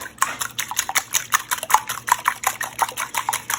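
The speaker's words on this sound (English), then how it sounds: "and then you whisk." A whisk beats eggs with a splash of cold water in a bowl for an omelette, a fast steady run of light metallic clicks and scrapes, close and continuous with no talking.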